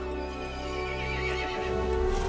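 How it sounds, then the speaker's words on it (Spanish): A horse in a Resident Evil Village cutscene lets out a loud, drawn-out neigh over a droning, tonal musical backdrop, with hooves shifting near the end. "El caballo se enfureció y llamó a las otras criaturas."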